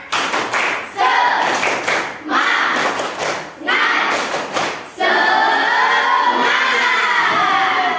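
A classroom of children clapping a rhythmic cheer, bursts of patterned claps in short groups, then a sustained stretch of shouted chanting voices, loud and close.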